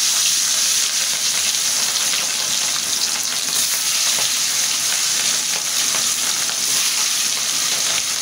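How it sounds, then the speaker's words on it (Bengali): Hilsa fish sizzling and crackling steadily in hot oil in a pan, a dense, continuous close-up fry with no pauses, no talking. "তেলটা আমার গরম হয়ে গেছে, আমি এখন মাছটা দিয়ে দিই।"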